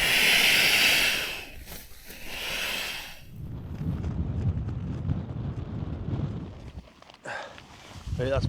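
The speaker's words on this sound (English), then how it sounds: "Wind's just starting to come in a little bit." Wind buffets the microphone at a snowy Lake District wild camp, gusting loudly at first and then easing into a rough, steady rush, with someone talking part of the way through.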